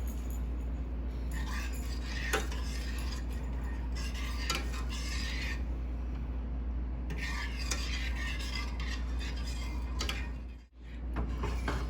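A spoon scrapes and clinks against a pot in repeated bursts of stirring as sugar dissolves in water, over a constant low hum, fairly close and moderately quiet.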